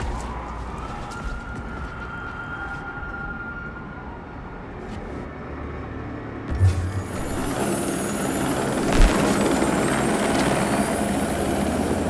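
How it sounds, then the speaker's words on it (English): A helicopter in the Watch Dogs 2 video game gives a broad, steady rotor-and-engine roar that grows louder and fuller partway through, with a few sharp thuds mixed in. "I do believe that is a helicopter."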